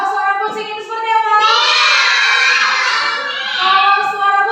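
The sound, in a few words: children imitating a cat's meow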